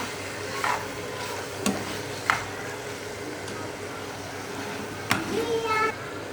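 Chicken with a tablespoon of vinegar stirred in a pan for shawarma: soft sizzle runs underneath while a spoon gives several sharp scrapes and knocks, and a voice is heard at times.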